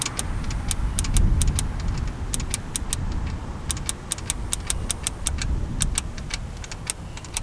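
Sharp electrical ignition sparks snap in quick rhythmic bursts on a Dodge Dart Swinger over a rumbling engine-like background.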